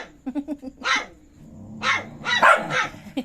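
A small dog yaps in a quick series of short barks, then lets out louder, longer barking bursts with a rough, growly edge, close by.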